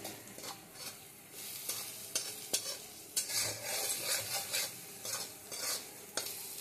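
Parshe fish tel jhal curry cooks down in hot oil with a steady sizzle, while a utensil stirs and scrapes the pan in repeated, uneven strokes close by.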